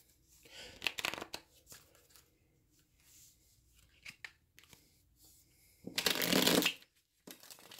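A deck of tarot cards is shuffled by hand in several quick riffling bursts with short pauses between them, the longest and loudest burst near the end, heard close up with no talking.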